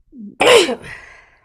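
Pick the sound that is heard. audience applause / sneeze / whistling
sneeze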